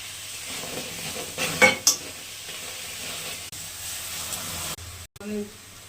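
A ginger, garlic and chili paste hits hot cumin and bay leaf in a pan for ghugni, giving a sudden loud sizzle that flares briefly and then settles into a softer steady frying hiss, with a clatter near the end.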